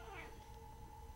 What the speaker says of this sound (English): Get off, cat.